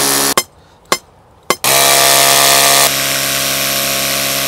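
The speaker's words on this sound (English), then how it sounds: "We're gonna drive this thing in the ground." A rotary hammer drives a ground rod into the earth during an electrical panel upgrade, opening with three sharp separate impacts, then a loud continuous hammering drone that eases slightly toward the end, close up with no talk.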